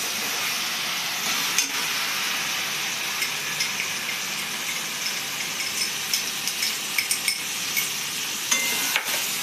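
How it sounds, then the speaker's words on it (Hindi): Spices frying in oil with garlic and ginger for chhole give a steady, close sizzle, broken by occasional scrapes and clinks of stirring, with no talking. "तो देखिए मसाला जो फूलने डाले थे ना उसको अब हम इसमें डाल दे रहे हैं।"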